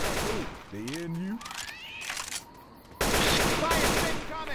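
Gunfire in the zombie shooter Left 4 Dead 2 comes in loud bursts of shots, with a heavy stretch at the end, mixed with game creature cries and people talking.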